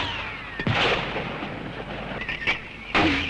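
Heavy American mortars fired by Kurdish Peshmerga fighters sound as a few sharp, distant booming reports spaced over a steady field hiss, with no talk.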